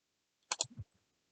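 A single close computer mouse click, a quick double-edged tap followed by a soft lower thud, short and isolated in near silence.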